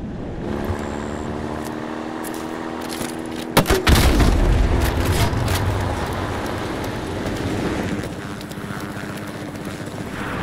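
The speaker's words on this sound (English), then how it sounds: "Now get a safe distance from the explosion." A C4 charge goes off in Call of Duty Modern Warfare Remastered with a sudden loud boom partway through, followed by a rumbling tail, amid background game ambience and engine-like hum.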